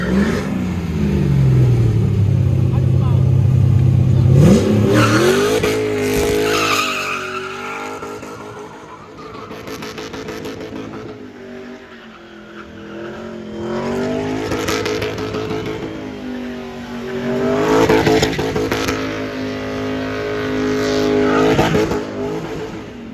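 Race cars at the Goodguys 2022 West Coast Autocross rev hard and sweep past with rising and falling engine roar, punctuated by squealing tires, loud and close.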